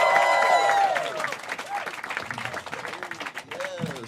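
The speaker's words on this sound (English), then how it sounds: "Start clapping right now for Jeff Brumfield, everybody" Audience at a Chicago comedy showcase claps and cheers as a comedian is introduced, with applause loud at first then settling, while an announcer's voice carries over the crowd.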